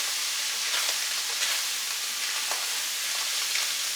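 Food browning in a pan for a 15 bean soup, with a steady loud sizzle and hiss throughout and faint scraping as it is stirred, close and continuous with no voices.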